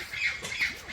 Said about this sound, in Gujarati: પોપટ.